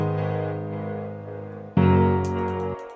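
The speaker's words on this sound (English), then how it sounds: "For example, these are piano chords." Two sustained piano chords ring out in turn, each struck cleanly then decaying slowly, the second louder and brighter, close and unaccompanied.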